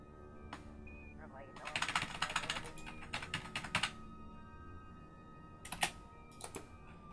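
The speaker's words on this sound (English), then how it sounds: "I'm sure you guys can hear me bashing that button." Keyboard keys are hammered in quick clattering bursts, several rapid clusters of clicks with pauses between, fairly close and moderately loud.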